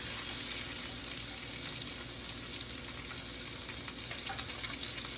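Salmon fillet turned over in a hot pan sizzles with a steady, moderately quiet frying hiss that continues evenly without speech.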